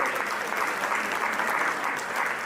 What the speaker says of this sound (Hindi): आप एक बार तालियां बजा के